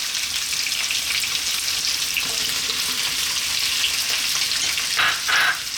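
Diced potatoes and carrots sizzle loudly in a hot pan for vegetable biryani, a steady bright frying hiss with a few stirring scrapes near the end.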